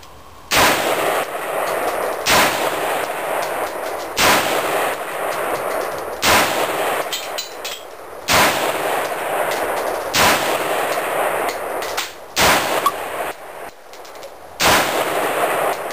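AR-15 rifle shots ring out one at a time at a measured pace, about nine loud, sharp cracks spaced a second or two apart, each trailing off in a brief echo, with no talking.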